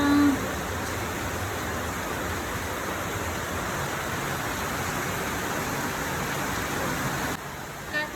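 Continuous rain pouring outdoors near a garden with a lemon tree, a dense, even hiss that stays steady and fairly loud throughout, easing slightly near the end, with no voices.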